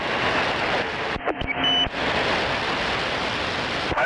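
A short radio beep cuts through steady loud static on a two-way radio channel, a brief tonal chirp lasting under a second before the hiss resumes, with no talk.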